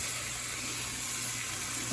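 Butternut squash soup ingredients sizzle in a lidded pot, making a steady, unbroken hiss at an even level throughout, close and alone.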